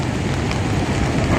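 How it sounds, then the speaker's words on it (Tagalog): Heavy rain pours down steadily during outdoor work along the Pasig River esplanade at Arroceros, a dense, constant hiss with wind buffeting the microphone. "Medyo malakas-lakas na rin ang ulan guys."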